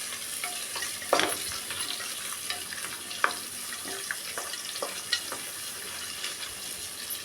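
Steady sizzling of onions frying in a pan for egg biryani, with scattered crackles and occasional sharper clicks of stirring throughout, no voices.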